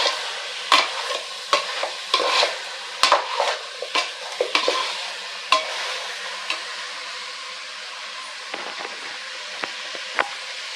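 Chicken sautéing with garam masala in a pan for chicken leg biryani, a steady soft sizzle broken by repeated sharp scrapes and clinks of a spoon stirring against the pan, no voices.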